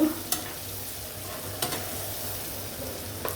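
Ginger and garlic paste frying in hot oil, a steady soft sizzle running throughout with a few sharp spatter pops and stirring clatters, close by and moderately quiet.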